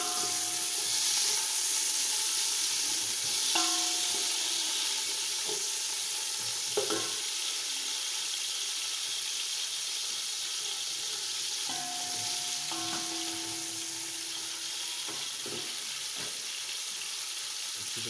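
Onions fry in about three spoons of ghee with a steady hiss and sizzle that lasts throughout, broken by occasional clinks and scrapes of a stirring utensil against the pan.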